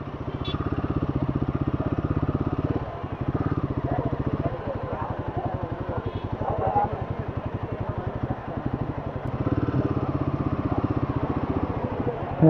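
A motorcycle engine drones steadily on a long-distance ride from Arunachalam to Tirupati, a close, continuous low throbbing with slight dips in pitch, while someone talks over it.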